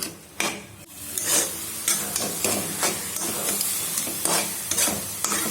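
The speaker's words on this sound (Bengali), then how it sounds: "এইভাবে গ্যাসের আঁচটা একদম কমিয়ে দিয়ে পুরো 1 ঘন্টা ভাজছি।" Vegetables fry slowly in a pan over a gas flame turned very low, giving a steady sizzle broken by rhythmic stirring and scraping strokes of a utensil against the pan, close and with no speech.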